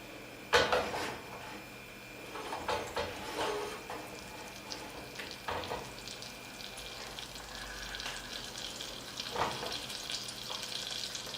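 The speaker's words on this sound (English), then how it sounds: "Just turn it down a little so you can hear the butter like starts sizzling" Butter sizzles and crackles in a hot pan, a soft steady hiss with scattered pops and occasional utensil clinks, with no voices.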